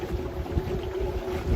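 Outdoor wind buffets the microphone in a low, uneven rumble, with gusty surges over a brief, fairly quiet moment.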